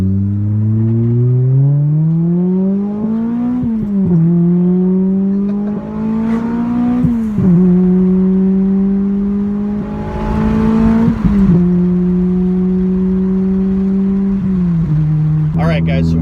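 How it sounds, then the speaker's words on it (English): A Toyota Celica fitted with a carbon fiber hood cruising toward winding roads, its engine droning steadily and rising in pitch through the gears with brief dips at shifts, loud and close throughout. "so we're well on our way for a little cruise in the Celica"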